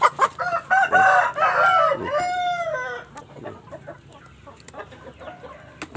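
Indio Gigante chickens, with a rooster crowing loudly up close and hens clucking, followed by quieter scattered clucks and faint farmyard sounds.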